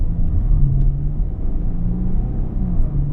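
A 2015 Maserati Ghibli S Q4 twin-turbo on 19-inch wheels cruises along a road, heard as a steady low rumble of engine and tyre noise from inside the cabin with no talking.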